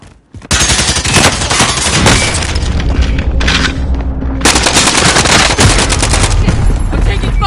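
Heavy machine-gun fire aimed at the shooter, near and loud, with continuous rapid bursts and booming impacts that fill the stretch almost without a break.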